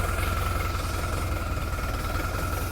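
A Scout TE504 minitractor engine runs in first gear with a steady, loud, close diesel-like throb and a continuous mechanical hum, holding an even rhythm without pause.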